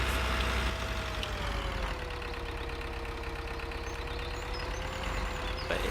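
In the Farming Simulator 2013 video game, a tractor engine labors steadily while pulling a plough, giving a continuous heavy drone that holds a slowly shifting pitch throughout, with no talk over it.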